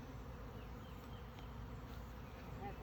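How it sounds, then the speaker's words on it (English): Honey bees buzz around frames of a nearly empty hive box, a steady close insect hum filling the short stretch with no talk over it. "It's that empty one basically just has frames with a few bees flying around, crawling around on it."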